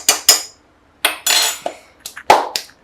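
A spoon scrapes and clanks against a metal pot as food is stirred, close and irregular, with short bursts and pauses between strokes.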